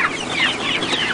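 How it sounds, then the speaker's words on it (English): Hungry backyard chickens cluck continuously at close range beside their chicken house, a dense overlapping chorus of short clucks with no talking. "There you go, chickens."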